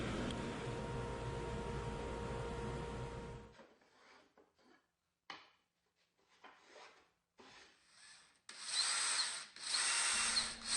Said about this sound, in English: 4/0 steel wool to polish on the drill press